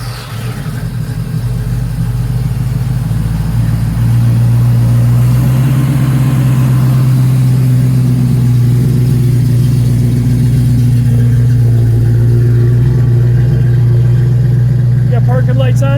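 A 1969 first-generation Ford Bronco engine starts up on a hot day and settles into a loud, steady low idle, with people talking over the rumble.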